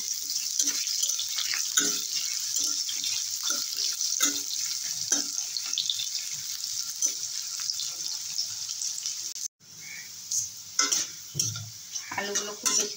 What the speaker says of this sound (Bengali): আলুগুলো খুব বেশি লাল করে ভাজবো না।